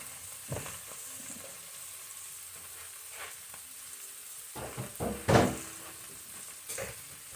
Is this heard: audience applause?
no